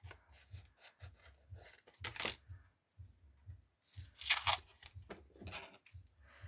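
Quiet tearing and crinkling of tape in a few short rips, close up, with soft rustling between them and no talking.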